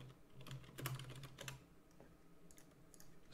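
Quick bursts of keystrokes on a computer keyboard as a new password is entered, soft and close, with short irregular pauses between clusters of taps.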